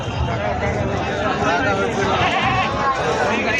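A goat at a crowded livestock market bleats amid a thick din of many animals and nearby chatter, the calls blending into a loud, continuous wash of voices and hoof noise.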